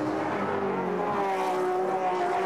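An Aston Martin GT race car climbs Mountain Straight at Bathurst, its engine holding a loud, steady high-revving drone close by for the whole stretch, with no voices.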